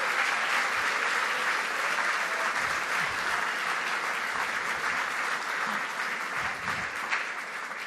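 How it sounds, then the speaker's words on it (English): Sustained applause at a season awards banquet for soccer finalists, a dense, steady crowd clapping that holds at even strength throughout, with only faint scattered sounds beneath. "Can we have another round of applause for all of the finalists,"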